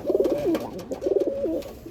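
Original Andhra Lambadi pigeons coo at close range in two rhythmic phrases, each a pulsing, throaty burble followed by a rolling call.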